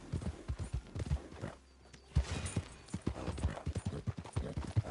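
Horse hooves galloping in the video game Red Dead Redemption 2, a rapid rhythmic clip-clop with a brief pause midway before the pounding resumes, fairly close and steady.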